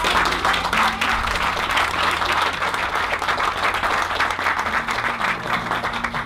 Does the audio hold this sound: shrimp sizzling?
no